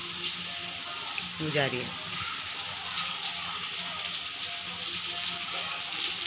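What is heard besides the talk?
rain falling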